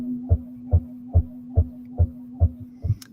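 Deep space radio signal bursts rendered as audio, pulsing like a heartbeat: seven evenly spaced deep thumps about every 0.4 seconds over a steady low hum, with no voices.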